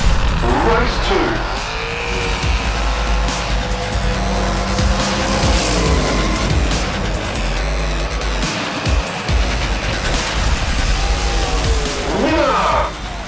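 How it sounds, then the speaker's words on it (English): A '32 Ford scale model race car powers past the finish line and slams into the back wall amid steady engine whine and tire noise, with an announcer talking over the loud track sound. "Show Me State not frightened to power on past the finish line and hit that back wall."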